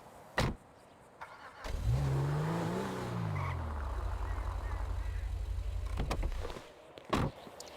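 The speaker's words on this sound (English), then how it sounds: "So in this case, we'll need to move the car closer." A car in GTA 5 is driven toward a flatbed, its engine revving up and then holding a steady drone for several seconds, framed by brief clicks and bumps, with someone talking over it.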